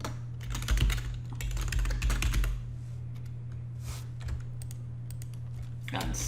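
Rapid bursts of typing on a computer keyboard while writing object-oriented code, close, crisp clicks in quick runs with pauses between them and a steady low hum underneath.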